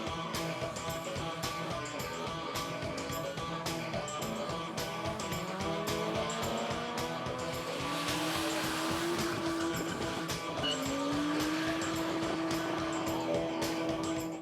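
Drift cars race at a European drift championship track at Juvincourt, engines revving and whining in rising pitch sweeps over a constant roaring, moderately distant wash of motor noise.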